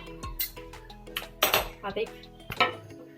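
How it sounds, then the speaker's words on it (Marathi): A kadhai wok set down on a gas stove in a home kitchen, several sharp metallic clanks and clinks of cookware in quick succession, close by, with brief voice sounds between. "त्यावरती आपण कढई ठेवून घेऊ."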